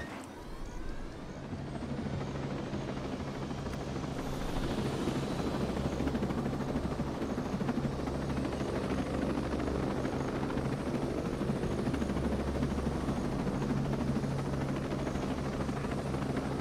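A helicopter in the video game Ghost Recon Breakpoint drones continuously, its steady rotor thrum and engine whine rising slightly after a quieter start, with no speech over it.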